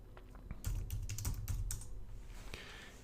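Keys clatter on a computer keyboard as a command is entered in a Linux terminal, a quick burst of close, fairly quiet clicks that then trails off to a few stray taps.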